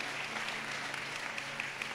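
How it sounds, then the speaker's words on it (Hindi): A church congregation claps together during a fasting prayer service. The applause is faint and steady, with a few sharper claps that stand out. "ताली बजा के प्रभु को धन्यवाद"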